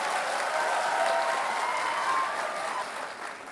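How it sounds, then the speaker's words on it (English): Audience applause at a university freshers' orientation programme, a dense steady wash of many hands clapping that carries on throughout and eases off slightly toward the end. "Louder clapping."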